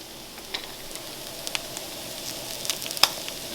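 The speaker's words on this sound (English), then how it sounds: "we're going to add some butter to this" Butter sizzles and crackles in a pan of corned beef hash, a soft steady hiss broken by scattered sharp pops, heard close up with no talking.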